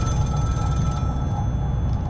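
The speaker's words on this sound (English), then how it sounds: "I think this is the phone right here, is it?" An old-style telephone bell rings continuously in a fan-made Scream horror video game, a steady ringing over a low background drone with no voices.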